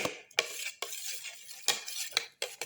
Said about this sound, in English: Thoroughly mix and crush all the ingredients together.